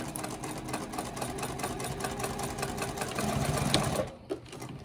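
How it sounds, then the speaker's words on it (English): A sewing machine stitches a seam on a simple handmade gift, running steadily and close with a rapid mechanical whir, then stopping abruptly near the end. "sink your needle, and then you can immediately back stitch and then start your stitch line"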